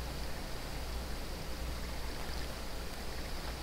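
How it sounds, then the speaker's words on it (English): A stream flows in a steady, unbroken rush of water close to the microphone, with no voices and no change in level throughout. "Does the water sound too loud?"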